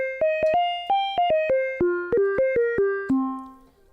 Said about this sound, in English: Almost to me has a bit of like a steel drum type sound.